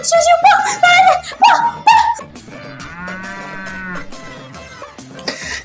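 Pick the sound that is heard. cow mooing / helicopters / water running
cow mooing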